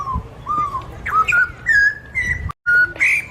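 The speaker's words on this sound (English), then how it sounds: "And the kookaburra's up in the tree here." Birds in a zoo aviary at Oklahoma City Zoo give a series of short, clear whistled calls close by, several bright chirps with brief pauses between them and no talking.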